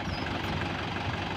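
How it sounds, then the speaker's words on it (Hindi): Mahindra 585 XP Plus tractor hitched to a loaded trolley, its diesel engine idling in a steady, close, low chugging rumble with no voices. "585 EI XT+ ट्रैक्टर है दोस्तों, लोडिंग ट्रॉली में"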